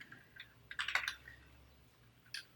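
Computer keyboard typed on while coding a React admin dashboard: a quiet burst of quick clicking keystrokes, then a pause and a short second flurry, close but faint over low steady hum.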